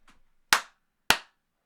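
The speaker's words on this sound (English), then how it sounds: "let's give a little clap" Two sharp, close hand claps ring out about half a second apart, each crisp and quickly decaying, alone in an otherwise quiet space after a faint brief rustle.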